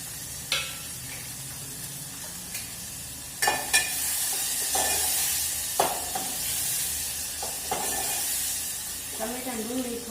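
Onion and tomato frying in a pan for dal fry, a steady sizzle and hiss with occasional scrapes and knocks of a spoon stirring, fairly close, with no talk over it.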